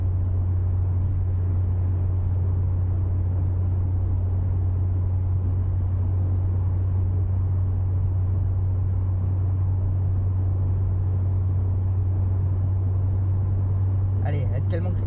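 A Citroën BX 16 TRS on a road test, its carburettor choking because of the automatic choke, gives a loud, steady low engine drone heard from inside, with road rumble underneath throughout.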